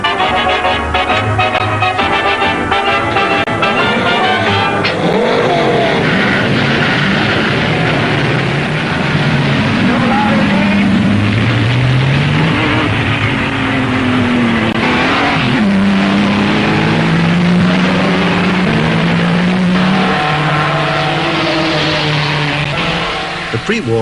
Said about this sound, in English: Nuvolari is to drive an Auto Union.